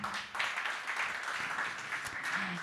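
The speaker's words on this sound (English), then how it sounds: "a big applause for him" At a weekly office breakfast, a group of coworkers claps steadily and fairly quietly throughout to welcome a new team member.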